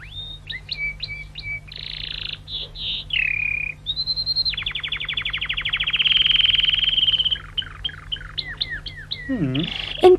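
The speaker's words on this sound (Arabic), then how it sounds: "انتشر تغريد العندليب في القاعة الكبيرة وأثر بعمق في قلوب المستمعين." A nightingale sings in a large hall, pouring out a varied run of whistled notes, rapid trills and sweeping chirps close and clear over a steady low hum, with no talking.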